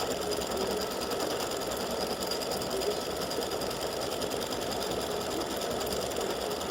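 An embroidery machine stitching out a small free-standing lace earring design, a steady, fast mechanical whir and chatter that holds at a constant level throughout with no talk.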